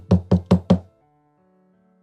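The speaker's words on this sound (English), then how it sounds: "Puzzled, I knocked on the door." Four firm knocks rap on a bedroom door in a quick, even rhythm, close and loud, followed by a quiet pause and then a sharp sound at the very end.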